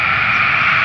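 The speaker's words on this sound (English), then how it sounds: "Planes taking off and landing here by IX Center and the Cleveland Airport." Aircraft noise near Cleveland Airport and the IX Center, a steady broad jet roar with no breaks, loud and sustained as planes take off and land nearby.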